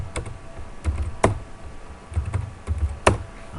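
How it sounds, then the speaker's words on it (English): A computer keyboard is typed on up close as a command is entered, with a few distinct key clicks spaced irregularly over a few seconds, clear and alone. "So I'm going to type in command prompt."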